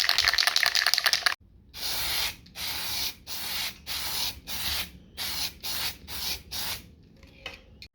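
Plastic primer sprayed from an aerosol can onto a part before chrome paint, heard as a run of short hissing bursts with brief pauses between, close and fairly loud, following an initial rough rubbing noise.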